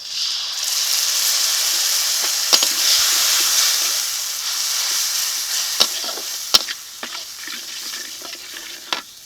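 Spice paste of garlic, cumin, ginger, turmeric, salt, tomato puree and chilli powder sizzles loudly and steadily in a pan, broken by occasional sharp clacks of a stirring spoon.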